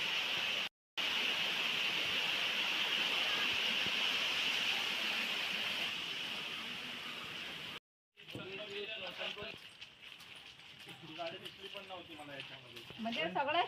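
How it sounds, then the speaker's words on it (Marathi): Water of a stream in the Konkan countryside rushing steadily as a close, even hiss for several seconds, then cutting off as people begin talking over a quieter background. "हे आमच्या व्हाळाचं पाणी."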